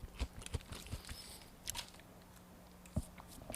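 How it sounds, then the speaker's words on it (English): Crunchy Japanese candy snack with an onion-powder, Cheeto-like coating being bitten and chewed, soft close crunches in a loose irregular rhythm, with a few sharper bites and quiet pauses between. "You can probably hear the crunching."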